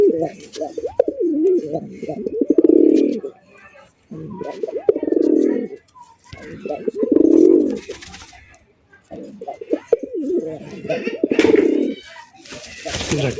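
Gola pigeons coo in a loft, four deep rounded bursts of cooing separated by brief pauses, close and fairly loud with softer ambient sounds between.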